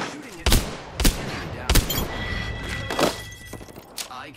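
Weapon fire in the battle-royale shooter Apex Legends: four or five sharp, close gunshots crack at irregular intervals over a low background, with faint game tones in between.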